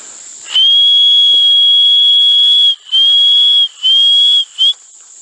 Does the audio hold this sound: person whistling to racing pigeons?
yes